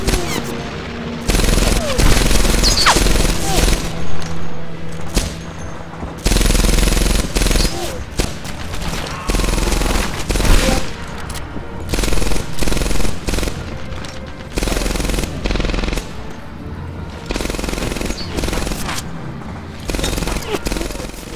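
Rapid machine-gun bursts and overlapping gunfire from a World War II shooter, Medal of Honor Airborne, in an Operation Husky mission fighting German soldiers, loud and repeated in short volleys with dense battle noise throughout.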